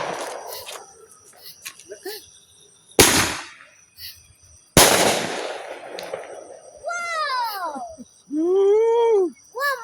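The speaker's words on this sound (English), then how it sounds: "Y'all popping fireworks with your daddy?" Fireworks set off outdoors: two sharp, loud bangs with crackling tails, followed by children's excited voices and whoops.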